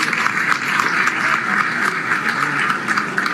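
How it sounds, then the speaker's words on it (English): Audience applause at a Sierra Leone SLPP/NGC Alliance political rally, greeting the President: dense, steady clapping from a large crowd, loud and sustained throughout with no break. "Give him a big hand of applause."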